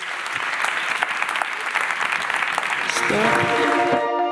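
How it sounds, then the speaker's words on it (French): An audience at a talk on whether another society is possible bursts into sustained applause, a dense steady clatter of many hands, with a voice briefly heard at the end. "vous pouvez vous applaudir"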